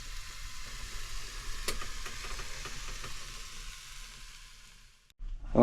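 Fish sizzling and frying in a pan at a campsite during an overnight boat camping trip, a steady close hiss with a few faint clinks, fading near the end before a louder burst of noise.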